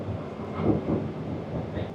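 A steady low rumble of a tram rolling along its rails, continuous and fairly loud, with a faint voice briefly audible underneath.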